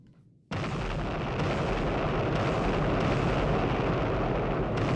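A missile launch from a 688(I) submarine in the Sub Command game: a sudden loud roaring blast starts just after a quiet moment and sustains as a dense, rumbling rush to the end.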